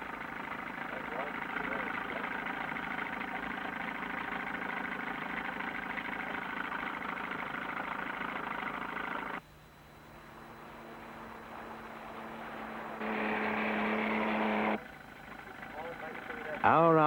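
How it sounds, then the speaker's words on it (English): A small outboard motor pushes a fishing boat slowly across a lake, giving a steady mid-pitched hum that drops away, builds back gradually, then steps louder for a few seconds before easing again. "Hour after hour they edge along, the small outboard churning slowly."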